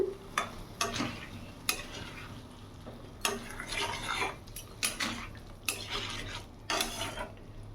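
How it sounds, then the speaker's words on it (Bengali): A cauliflower and potato aloo dum curry stirred in a pan, with a spoon scraping and knocking the pan in repeated strokes over a soft sizzle, close but quiet. "ভালো করে নাড়াচাড়া করে নেবো একটু।"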